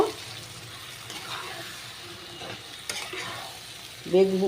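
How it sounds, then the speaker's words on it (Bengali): Spice paste with turmeric fries in a pan for a hilise fish curry, a soft continuous sizzle under repeated scraping stirs of a spatula, a louder clatter near the end. "মশলাটাকে একটু ভাজা ভাজা করব।"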